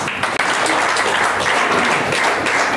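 An audience at a book lovers' gathering applauds in a dense, sustained wash of clapping that fills the room from start to finish.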